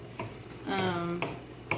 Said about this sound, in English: So you let the onions kind of get going there.